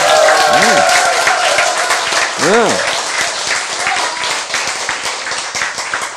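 Applause from an audience at a spoken talk: dense, steady clapping that runs loud through the whole stretch, with a voice speaking over it.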